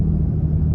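A Toyota Tacoma pickup's exhaust gives a steady low rumble while driving, heard from inside the cab with a constant drone and no talk.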